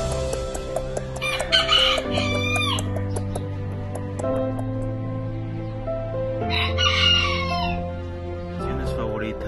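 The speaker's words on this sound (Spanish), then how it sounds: "mi pequeño criadero de gallos miniatura" Miniature roosters at a small breeding farm, several loud nearby crows in sequence with clucking in between, and a person speaking over the birds.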